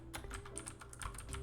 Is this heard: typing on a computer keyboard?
yes